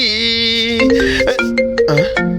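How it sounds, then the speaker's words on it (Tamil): A mobile phone rings with a bright, tonal melodic ringtone, a sequence of sustained electronic notes shifting pitch, loud and close with no talk over it. "யாராவது இந்த டைம்ல இந்த பூக்கி ஃபோன் பண்றான்."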